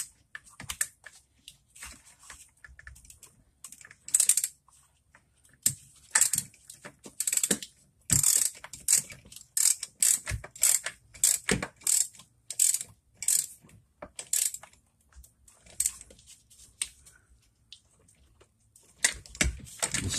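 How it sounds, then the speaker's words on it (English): A ratchet on an extension snugging a brake booster pushrod nut on a Ford, clicking in quick close bursts of sharp ticks separated by short pauses, with faint handling noises in between. "You gotta get just the right length extension in here too to make this a little easier."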